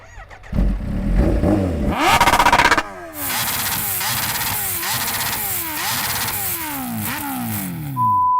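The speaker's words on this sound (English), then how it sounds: "Let's have a listen to the bikes. Can you rev up your bike?" A motorcycle engine revs hard several times in quick succession, loud and close, with brief drops between bursts of rising pitch.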